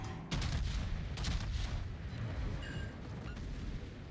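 Warship guns boom in World of Warships, a heavy, continuous low rumble of naval gunfire with a few sharper cracks and distant explosions layered through it.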